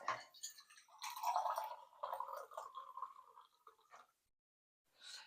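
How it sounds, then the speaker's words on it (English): Water poured into an Instant Pot in a kitchen, a steady splashing and trickling stream lasting a few seconds, close and moderately loud, ending in a pause and a short final splash. "I'm going to put some water in it."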